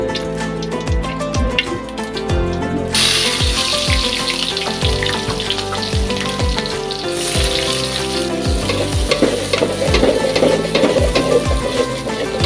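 Haleem cooks in a pot at home during Ramadan, with bubbling, sizzling and the scrape and clink of a spoon stirring in repeated strokes, close and steady throughout.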